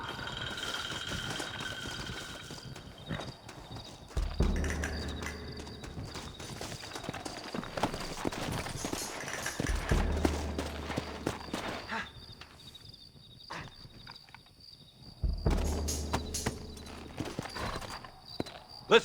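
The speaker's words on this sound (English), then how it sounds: "Looks like Carlos left us some horses." Several horses clip-clop and gallop in the Red Dead Redemption video game, hooves pounding in bursts with rattling tack and a brief whinny, intermittent heavy thuds and background game sounds.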